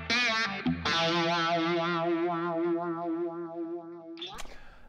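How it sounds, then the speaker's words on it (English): An electric guitar played through an MXR Phase 90 phaser pedal rings out loud and up close, a struck chord sustaining with a sweeping, swirling wobble before a brief second attack at the end. "the MXR Phase 90."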